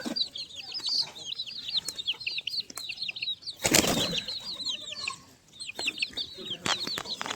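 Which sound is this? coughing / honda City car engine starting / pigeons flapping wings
pigeons flapping wings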